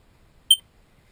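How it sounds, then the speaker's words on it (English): A single short, high-pitched electronic test beep from a carbon monoxide alarm in a 1976 Scamp travel trailer sounds once in near silence. "Also have a carbon monoxide alarm."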